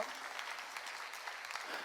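A church congregation applauds together during a sermon, a steady, fairly faint patter of many hands clapping throughout.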